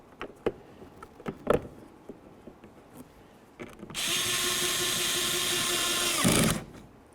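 A power tool drives a bolt into a window regulator mounting hole on a 2007-14 Ford Edge, a loud steady whir of about two and a half seconds after some light clicks and handling noises.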